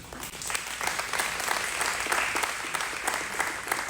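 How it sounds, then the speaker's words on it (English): An audience at a chamber luncheon applauds its media team, with continuous moderate clapping from a room of people lasting several seconds, steady and unbroken, without speech on top. "Big applause for our media team."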